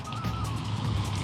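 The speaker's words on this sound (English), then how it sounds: "It's cobblestone streets here, so whenever a car goes by, it's really loud." A car rolls over a cobblestone street in Kharkiv, Ukraine, a loud low rumble with rattling bumps from the stones that stays near and steady for the whole moment.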